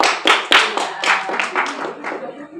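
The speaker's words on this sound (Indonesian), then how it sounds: "Tepuk tangan buat Rio" Children in a classroom lesson on fasting clap for a classmate named Rio who answered correctly, a short burst of hand claps with several distinct strong strokes near the start, then looser clapping that fades out.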